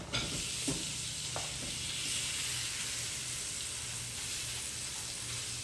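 Sausage sizzles steadily on a Blackstone E-Series electric griddle with butter, a constant close hiss with a few small scrapes and taps early on and no talking.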